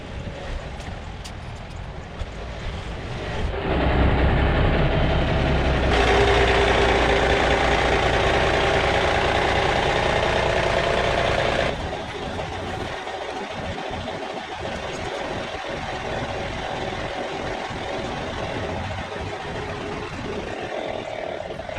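A bobbed M923 5-ton military truck's diesel engine runs steadily, swelling into a louder, fuller roar for several seconds as it drives, then dropping back to a lower rumble with occasional thumps, no voices.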